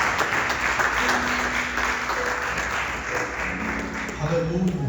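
A church congregation in a Portuguese-language worship service applauds loudly, steady clapping with voices and tonal sounds mixed in underneath.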